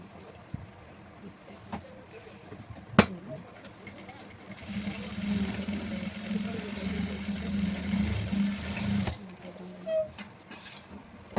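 A sewing machine stitches a school uniform pant, running in one steady whirring burst of about four seconds mid-clip, with scattered clicks and handling noises before and after.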